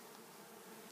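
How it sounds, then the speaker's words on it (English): Many bees buzz inside a messy top bar hive, a steady, dense, close hum running without a break through the whole moment. "there's a lot of bees in here today"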